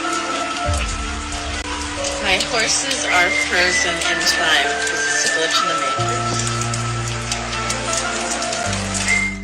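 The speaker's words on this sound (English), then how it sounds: "actively raining" Steady rain patters across the whole stretch while someone talks over it, with a low hum running underneath.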